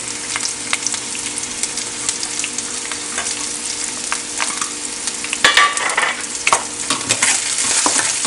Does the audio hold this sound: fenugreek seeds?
yes